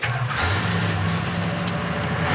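A 1969 Dodge Daytona engine fires up and settles into a steady, close, loud rumble with a deep pulsing note, with no talking.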